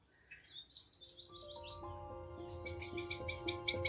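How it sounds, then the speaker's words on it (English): A blackbird sings in a varied, fluty phrase early on, then a louder run of bright chirping notes from other birds builds up. The setting is a wildlife hide at night, with steady low background hum underneath. "the blackbird is still giving it out over here on the right"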